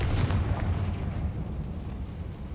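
A Confringo explosive spell goes off in Hogwarts Legacy as a loud, rumbling blast that fills the air and then rolls on as a steady, heavy roar.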